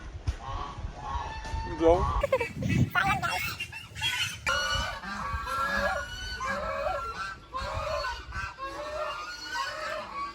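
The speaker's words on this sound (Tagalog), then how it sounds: "Pato." Ducks quack repeatedly at an estate outing, a busy, close chorus of nasal calls mixed with clucking from other fowl, while people talk in the background.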